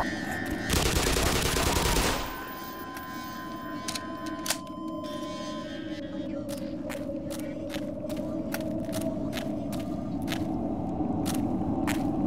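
Gunfire in the video game Black Mesa: a loud burst of dense shooting, then a run of rapid, regular single shots over a steady droning background.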